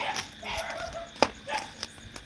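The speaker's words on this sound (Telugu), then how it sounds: "కుక్క సౌండ్ ఎక్కువ వినిపిస్తుంది అనమాట" A dog barks and yelps near a home, several short, sharp calls scattered over a couple of seconds, with one louder bark standing out above faint background noise.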